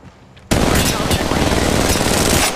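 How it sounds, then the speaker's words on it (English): Sustained, loud automatic gunfire hitting the player in a video game, a sudden dense barrage that starts abruptly and continues without pause for about two seconds. "Hey, I'm getting shot."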